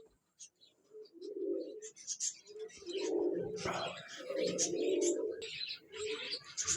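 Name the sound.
pigeons cooing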